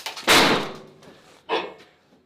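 A stubborn door in a shop is forced and slams shut with a loud, close bang, followed by a second, softer thud after a short gap, with no talking.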